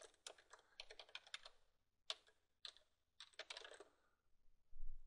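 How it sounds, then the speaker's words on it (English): Quiet bursts of typing on a computer keyboard, quick clicking runs separated by short pauses. "I'm going to start typing"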